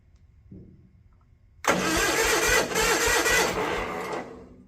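An old Gravely tractor, running on older gasoline, is quiet apart from a brief low rumble, then its engine catches abruptly and runs loud and close, roaring unevenly for the last few seconds.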